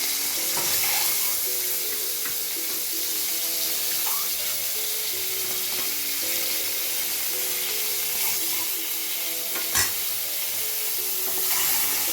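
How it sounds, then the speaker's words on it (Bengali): Eggs fry in a little oil in a wok with a soft, steady sizzle, fairly faint, plus a few light clinks and scrapes of a utensil and no voices. "এবার কড়াইয়ে সামান্য পরিমাণে তেল দিয়ে ডিমগুলোকে একটু ভেজে নেব"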